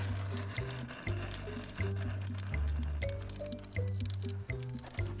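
Liquid gurgles and sloshes in pulsing bursts as a car's cooling system is flushed with a vinegar cleaning solution through a pulled radiator hose. The sound is quiet, close and rhythmic, with no talking.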